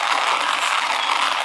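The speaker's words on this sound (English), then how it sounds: "The coffee beans are going to grind." A small travel coffee grinder works through coffee beans with a steady, dense grating rasp that runs without a break, loud and close, and no voices are heard.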